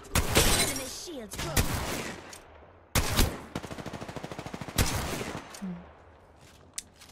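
Gunfire in the battle royale shooter Apex Legends: several sharp shots, then a rapid burst of evenly spaced rounds, with game sounds and a voice talking over parts of it.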